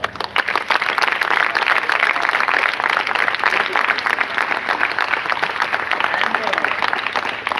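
A school audience applauds steadily, a dense, sustained wash of clapping that holds for several seconds, with chatter from the crowd mixed underneath.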